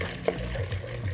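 Water pours into a Mr. Coffee machine, a soft continuous splashing trickle heard close and quietly.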